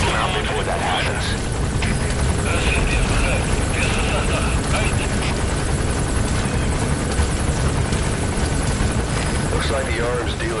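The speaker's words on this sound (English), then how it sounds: "There's a chopper landing." A helicopter landing in a video game, a loud dense rotor and engine roar that stays steady and close throughout, with faint tones and voice-like sounds blended into the mix.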